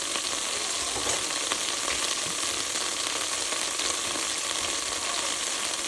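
Carrots, onions and celery sizzle in a pot for beef barley stew, a dense, continuous hiss that holds steady and close throughout, with no talking.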